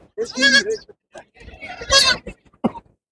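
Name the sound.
goats bleating at livestock market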